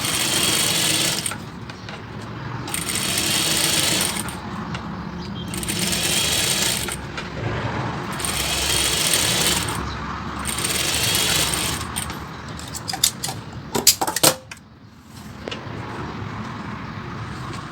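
A sewing machine stitches double cord piping onto a sleeve in several bursts of fast, even whirring separated by pauses, followed by clicks and rattles of the mechanism near the end.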